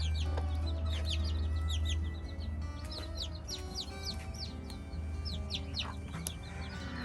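A broody Cochin bantam hen clucks softly and repeatedly nearby, with quick high chirps and tweets from other birds scattered throughout.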